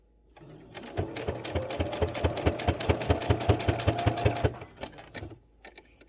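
A sewing machine stitching a Valentine's Day accent pillow runs in a fast, even mechanical chatter for several seconds up close, then stops, followed by a few faint handling clicks.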